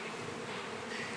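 Bees buzzing at an apiary where a Stanley seeder stands, a steady dense insect drone filling the whole clip at low, even level with no talk.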